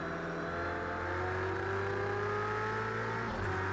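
Race car engine in the Project Cars video game holding a loud, steady high-revving whine, the pitch climbing slowly before a quick gear-shift dip near the end, with no talk.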